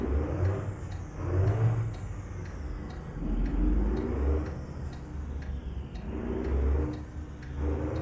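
Truck engine revving and accelerating in a driving game with an 11-speed gearbox, a steady loud drone under repeated soft ticking like an indicator, with the revs rising and falling in waves.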